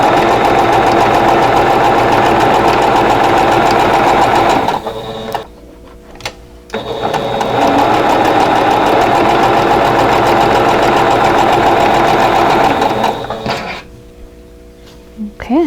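Sewing machine chain piecing fabric for a quilt block, a loud steady mechanical whir running continuously, pausing briefly mid-way with a short stop-start, then resuming before falling quiet near the end.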